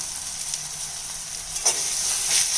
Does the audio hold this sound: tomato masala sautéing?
yes